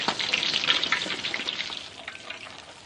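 Prawn, potato and shiso leaves frying in hot oil until golden give a bright, crackling sizzle, busy at first and then gradually easing, heard close with no voices.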